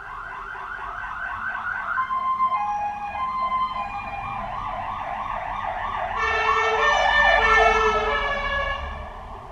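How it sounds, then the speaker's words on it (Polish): A fire engine siren passes by, wailing in rapid up-and-down cycles with a second tone joining in and growing louder as the vehicle comes close, over low traffic rumble. "Musiałam przerwać na chwilę, bo straż pożarna jechała"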